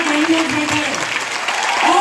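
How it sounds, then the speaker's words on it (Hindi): Loud audience applause at a company's 19th anniversary celebration, a continuous wash of clapping with a voice speaking over it and cheering swelling near the end. "एक बार जोरदार तालियां आपके लिए, आपके अप्लायंस के लिए, जोरदार तालियां।"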